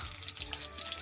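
Onions frying in a wok for chowmein, a short, fairly quiet burst of crackling sizzle close by.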